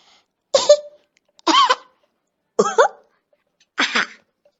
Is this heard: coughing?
yes